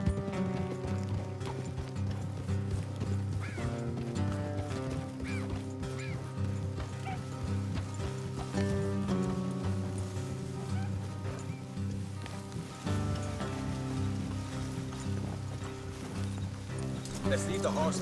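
Horses clip-clopping at a steady ride in the Red Dead Redemption 2 video game, hoofbeats running continuously under a music score, with characters talking over them.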